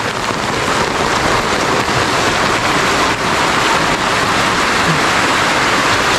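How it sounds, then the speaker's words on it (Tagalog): Steady rain pours down, a dense, even hiss from start to finish with no voices. "Sobrang init kanina, biglang umulan"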